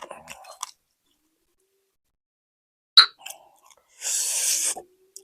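Chewing sounds while eating rice with fresh vegetables and hot chili, with a brief crunchy burst and a longer, louder bout of chewing near the end, set apart by silences.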